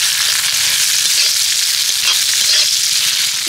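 Chopped onions frying in a pan, a steady close sizzle with a broad hiss and faint crackling throughout, occasional light stirring and no voices.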